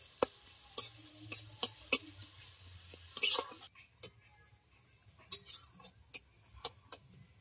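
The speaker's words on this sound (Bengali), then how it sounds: "পেঁয়াজটা হালকা ভাজা ভাজা হয়ে এলে ওর মধ্যে দিয়ে দেবো সেদ্ধ করে রাখা আলু।" Boiled potatoes and chopped onion are stirred in a pan, with sharp scraping clicks and taps from a utensil and a faint sizzle underneath.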